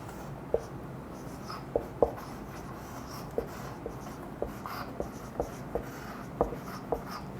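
Chalk or marker tapping and scratching on a board during a physics lecture on vectors, a series of short distinct knocks at irregular intervals over a steady room hum, close and without talk.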